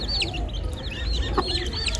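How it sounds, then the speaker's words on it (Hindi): Chicken chicks cheep and cluck in quick, scattered bursts close by, over a low rustling background. "ये देखे मेरे मुर्गी के बच्चे हैं"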